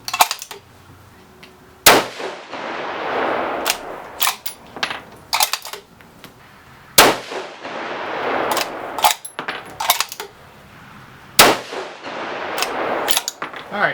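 Rifle shots from a 6mm Creedmoor loaded with 107-grain Match King bullets, with five sharp, loud reports spaced several seconds apart, each followed by a rolling echo and a steady background hiss.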